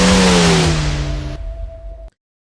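A Formula 4 race car at Spa in iRacing revs loudly and close up. The engine tone drops, then it cuts and fades abruptly into silence after about two seconds.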